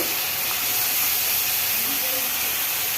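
Chickpeas and potatoes frying in a pan with a splash of water, giving a loud continuous steamy hiss and sizzle close up, steady for the whole stretch with no break.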